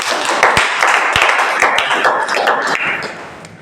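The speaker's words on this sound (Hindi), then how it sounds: "बजाइए ताली इसके लिए" Students in a class clap together, a dense burst of applause with sharp individual claps standing out, loud and close throughout.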